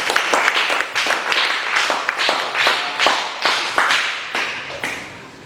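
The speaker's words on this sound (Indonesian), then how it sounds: "tepuk tangan dulu" Classroom applause for a student who has just presented, a steady run of brisk, fairly loud hand claps in an even rhythm lasting several seconds, close and without talk.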